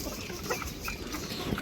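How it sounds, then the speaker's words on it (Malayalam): Naked-neck chicks, now grown, cluck softly and intermittently amid steady farmyard background noise, with a few brief calls standing out. "നാൾ വാങ്ങിച്ചുകൊണ്ട് വന്ന കഴുത്തെ പപ്പില്ലാത്ത കോഴിക്കുഞ്ഞുങ്ങളെയൊക്കെ കണ്ടവന്മാർ വലുതായിട്ടോ"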